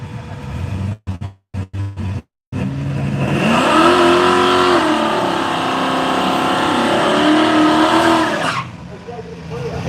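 Ford Cortina drag car at the launch, several sharp cut-out bursts followed by a sustained loud engine rev with shifting harmonic tones, held for several seconds before dropping away.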